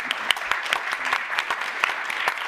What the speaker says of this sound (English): Let's give a round of applause to these guys